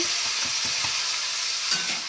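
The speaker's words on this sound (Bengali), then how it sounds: "এখানে ম্যাগি বানাচ্ছে। এই একটু মশলা দিচ্ছে ওতে" Maggi noodles with spices cook in a wok, giving a constant, close hiss and sizzle with a few soft stirring knocks, and no voices.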